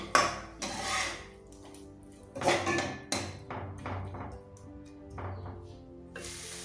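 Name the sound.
stirring tamarind sauce with salt in a pot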